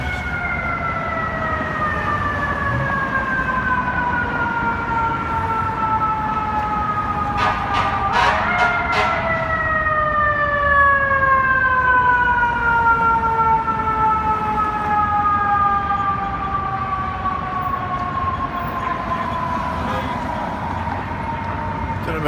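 A fire truck siren wails on a New York street, its rising and falling tone sweeping steadily and loudly through the whole stretch over a constant hum of city traffic.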